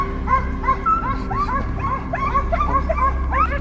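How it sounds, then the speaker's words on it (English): A pack of hunting dogs chasing an invasive wild boar on farmland bays and yelps excitedly in rapid, overlapping barks, some high and whining, over a low rumbling background. "The distant barking of dogs signaled that the prey was near."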